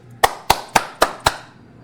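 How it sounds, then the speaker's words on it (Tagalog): Five sharp hand claps, evenly spaced about a quarter second apart, close and loud over a faint background hum, with no talking. "3 palakpak sa inyo."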